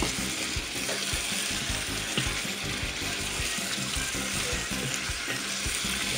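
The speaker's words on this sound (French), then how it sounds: "le chouchou coupé en morceaux et le calebasse. On va tourner tout ça." Chicken curry with chopped chayote and calabash being stirred in a sizzling pot, a steady close frying hiss with soft scraping and wet stirring sounds throughout, no voices.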